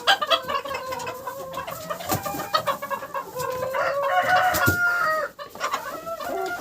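Several chickens eating millet cluck and chatter close by, a busy mix of clucks and short squawks, with a few sharp pecking taps among them.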